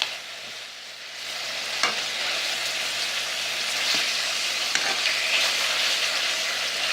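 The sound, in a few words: flank steak frying in oil in a pan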